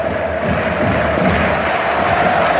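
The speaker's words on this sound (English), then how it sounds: "This crowd making their own entertainment, really" A large football stadium crowd at an FC Barcelona versus Athletic match roars and chants in a dense, sustained wash of cheering with no break, heard loud and full.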